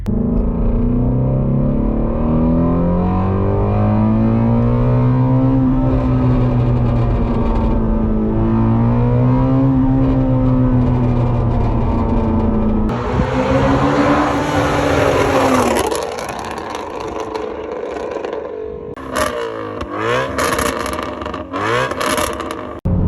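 A Ford Mustang GT350 V8 exhaust revs high toward 8,000 RPM with a rising and falling engine drone, then crackles and pops in rapid irregular bursts as it decelerates, loud and close inside the car.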